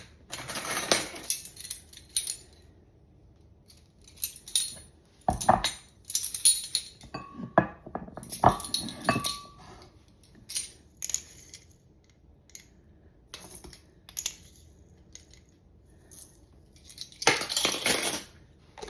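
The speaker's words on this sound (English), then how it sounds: "So I'm just going to grind up a teaspoon of those" A teaspoon of coriander seeds being ground, heard as intermittent bursts of gritty crunching and sharp clinks spread across the clip, some loud and some faint, with pauses between and no voices.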